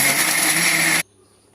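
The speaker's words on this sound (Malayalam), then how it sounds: "രാവിലെ ഉണ്ടാക്കിയ പുട്ടാണ് അത് ഒരു കുറ്റി ബാക്കി വന്നു അത് നമുക്ക് മിക്സിയിലിട്ട് പൊടിച്ചെടുക്കാം" An electric mixer grinder whirs loudly and steadily as it grinds leftover puttu into powder, then cuts off abruptly, leaving near silence.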